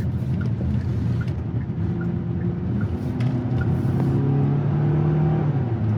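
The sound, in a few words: 2026 Hyundai Tucson XRT engine while driving on road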